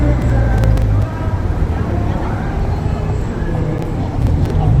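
A loud right-wing propaganda car on a busy Tokyo street in Ginza or Nihombashi, blaring a steady dense wash of amplified sound and engine noise close by, with traffic hum and voices mixed underneath throughout.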